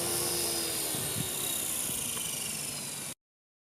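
An ALIGN T-REX 450 radio-controlled helicopter hovers, giving a loud continuous high-pitched rotor and motor whine close by that cuts off abruptly after about three seconds.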